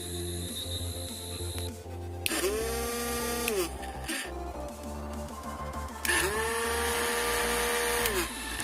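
A homemade 12 V DC blender motor powered from a solar battery whines loudly as it spins up, runs at high speed, briefly cuts out, then revs up again with a high, steady electric hum.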